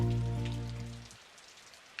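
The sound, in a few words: rain starting to pour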